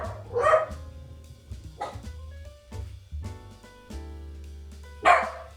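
A dog barks in a few sharp bursts in a home kitchen, with loud barks near the start and again near the end and quieter yips and whimpers between, close and clear.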